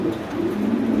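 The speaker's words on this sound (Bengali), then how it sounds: "একটা অ্যান্ডোলিজিয়ান মুন্ডিয়ান মাদি কবুতর" An Andalusian fancy pigeon, a female, coos softly but steadily through about a second, a low continuous murmur heard up close without any speech.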